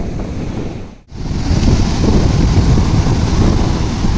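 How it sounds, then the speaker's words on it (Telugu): Surf and steady wind roar at Mahabalipuram beach, with broadband wave wash filling the clip after a brief dip near the start, loud and continuous with wind buffeting the microphone. "ఫైనల్లీ బీచ్ దగ్గరికి అయితే వచ్చేసాం చూడండి ఇప్పుడైతే బీచ్ చూపిస్తాను"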